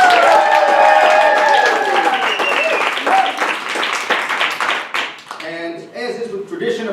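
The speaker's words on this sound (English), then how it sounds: "Give them a big round of applause." Loud audience clapping for first-time storytellers at a live storytelling night, rising under a fading voice and musical tones, then thinning into scattered claps with a few cheers.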